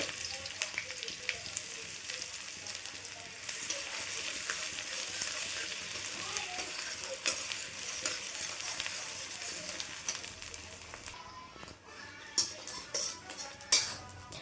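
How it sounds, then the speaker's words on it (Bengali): Chopped ginger and garlic dropped into hot oil for egg chilli, hissing in a continuous close sizzle, then lighter near the end as a spoon stirs with a few soft clicks and taps. "এবার তেলটা গরম আছে, এই তেলের মধ্যে আমি দিয়ে দেব সে আদা আর রসুন কুচি করে যেটা রেখেছি সেটা"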